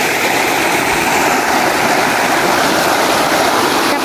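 Waterfall in a mountain forest pours steadily, a loud, close, continuous broadband rush of falling water with no voices over it.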